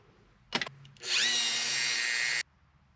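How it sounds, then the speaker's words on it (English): A power drill gives a brief stuttering burst, then whirs steadily for over a second as it enlarges holes in a housing, its pitch settling before it stops abruptly. "I'm going to have to drill the holes in the housing bigger"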